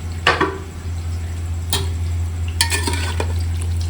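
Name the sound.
chopped onion frying in cooking oil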